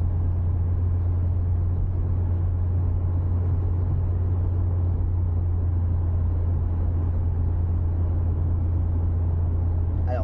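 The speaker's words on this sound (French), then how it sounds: "Dès que le panneau 110 machine, on appuiera à fond sur l'accélérateur." Citroën BX 16 TRS driving on the road, its engine a steady, loud, low rumble with road noise, heard from inside the car, with no clear rise in pitch from acceleration.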